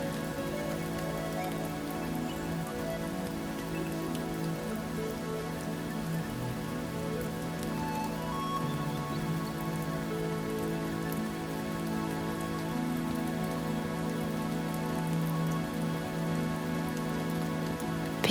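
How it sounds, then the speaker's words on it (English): Steady rain falls on a rooftop, a dense, even patter of drops that holds at a constant level for the whole stretch, close and enveloping with no voices. "Picture the rain falling onto the rooftop right now."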